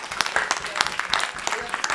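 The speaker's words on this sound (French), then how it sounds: "Et tout le monde applaudit bien fort nos candidats" Audience applause for quiz contestants at a gaming event's Burger Quiz game, a short burst of brisk clapping from a crowd, with a voice talking over it.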